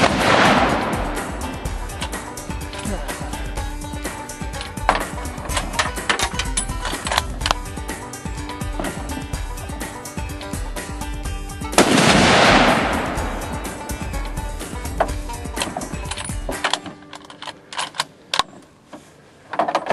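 .243 rifle shots boom out twice, about twelve seconds apart, each with a loud broadband crack and a long rolling decay, with scattered clicks and handling noise between them.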